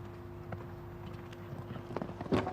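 Horse hooves thudding over the turf of a show jumping course at an eventing competition, a few soft irregular strikes building to a heavier thump near the end, under a low steady background hum with no talking.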